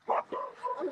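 Dogs barking and yelping after a kennel breaks, a short burst of a yip followed by whimpering barks, close and fairly loud, with a voice faintly underneath.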